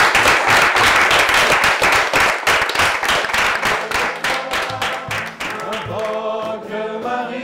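An audience claps at a church synodal team gathering, dense and sustained applause that thins out and gives way to singing toward the end.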